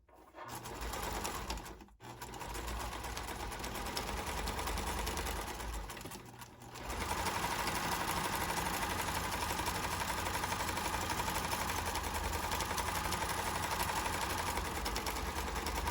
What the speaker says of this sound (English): I'm going to do a little back stitch there